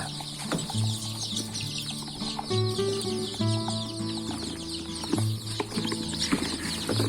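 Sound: chicks peeping

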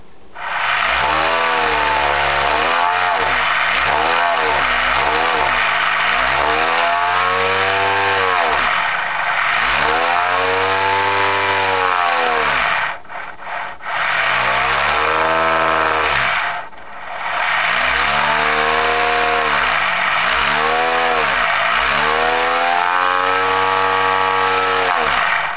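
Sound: homemade two-magnet electric motor spinning fast on 24 volts

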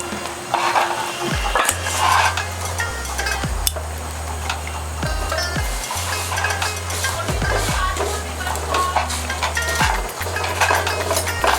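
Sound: spice powder frying in a pan for chilli chicken

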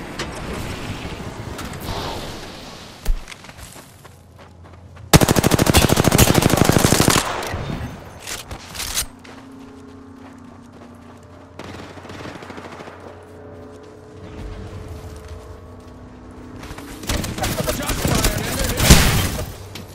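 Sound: gunfire in the video game Apex Legends

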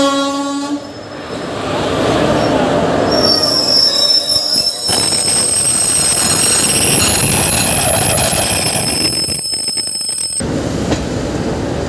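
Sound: train arriving at Lonavala station through Khandala ghat

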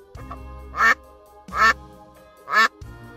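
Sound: duck quacking

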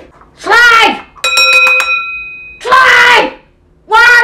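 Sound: hand bell being rung repeatedly

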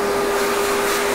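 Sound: vacuum cleaner running in a barber shop

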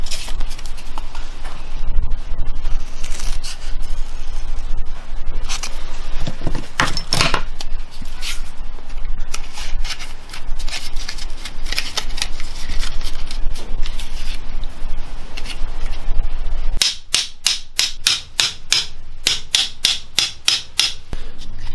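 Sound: cutting cardboard for a throw rocket flight

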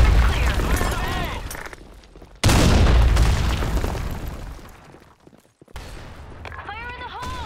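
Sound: grenade explosion and gunfire in a video game

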